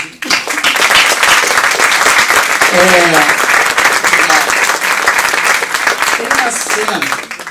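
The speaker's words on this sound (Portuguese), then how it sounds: "Então, antes de mais nada, esse aplauso." Audience applause at a Brazilian film critics' awards ceremony for the best films of 2017, a loud, dense, continuous clapping from a large crowd that fills the whole stretch, with a few voices briefly audible within it.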